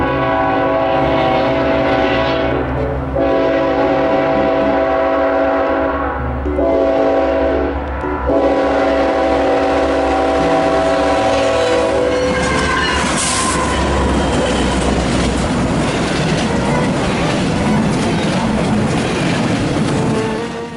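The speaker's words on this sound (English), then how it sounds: "get this footage out of the train that just passed before us" Freight train passing in Poultry North Georgia, a loud continuous rumble of cars rolling by with several long horn blasts early on, then rattling wheels and squeal as it continues past.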